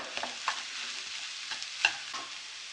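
A spoon stirs boiled potatoes with spices in a pan, giving soft, irregular scraping and clinking strokes at close range, with no talking.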